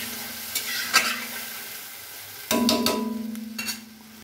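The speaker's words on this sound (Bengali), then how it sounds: "মাছ ভাজা তেলের মধ্যে সরিষা বাটার পেস্ট দিয়ে দেওয়ার পর মা অল্প একটু ঝালের গুঁড়া দিয়ে ভালো করে নেড়েচেড়ে কষিয়ে নিচ্ছে" Mustard paste and chili powder frying and being stirred in oil left from frying fish, a steady sizzle broken by a couple of spatula clacks and then a louder burst of scraping stirring.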